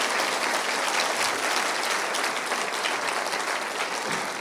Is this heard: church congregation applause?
yes